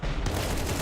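Counter-Strike gunshot during a BLAST Open Rotterdam grand final match, a brief loud close weapon report that fills the short moment with dense crackling noise.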